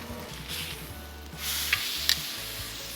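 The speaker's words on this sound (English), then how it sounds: "we wanna make sure that we get a good sear without cooking it too much" Lean beef steak searing on the hot grill of a hickory-fired Woodwind Pro smoker: a soft, even sizzle swells partway through, with a couple of brief sharp ticks near the end and no voices.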